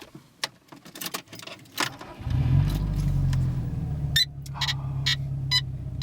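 Keys jingle and clatter, then a Subaru engine cranks and catches at about two seconds, settling into a steady idle with a few clicks and knocks.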